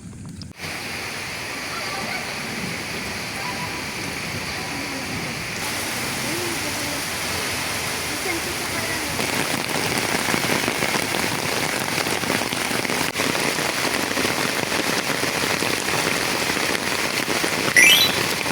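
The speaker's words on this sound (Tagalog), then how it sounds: "Umuulan pa din." Steady rain patters on a surface throughout, a dense continuous hiss that grows slightly heavier partway through, with no speech.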